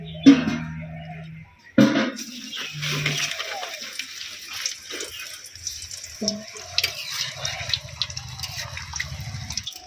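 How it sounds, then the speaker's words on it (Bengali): Chicken pieces, marinated with a little baking soda, sizzle as they are dropped one by one into hot oil in a village kitchen wok, a steady crackling hiss that swells after each addition and continues under brief talk. "কড়ার মধ্যে তেল গরম হয়ে গিয়েছে, এবার একটা একটা করে চিকেনের পিসগুলো দিয়ে দেব"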